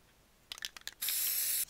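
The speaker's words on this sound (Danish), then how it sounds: "Kom nu, sæt dit spray ned ved dit hoved." A spray can tags graffiti in a video game: a few short clicks, then one steady, bright hiss lasting about half a second, fairly faint.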